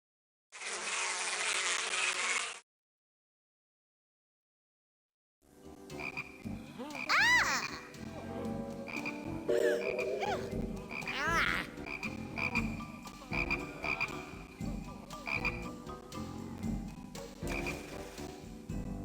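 Cartoonish frogs croak in a swarm for the plague of frogs in The Beginner's Bible game, a chorus of bubbly, warbling calls and buzzing layered over light music after a short burst of noise and a pause.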